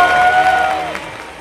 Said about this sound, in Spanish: ¡Otro aplauso muy fuerte para Biancuda,